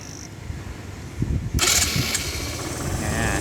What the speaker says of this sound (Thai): เดี๋ยวเรามา สตาร์ทฟังเสียงเครื่องดีกว่าครับ